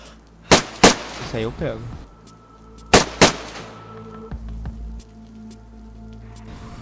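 Gunfire against zombies in the video game DayZ: two quick pairs of sharp, loud shots a few seconds apart, followed by a quieter game ambience while someone speaks briefly.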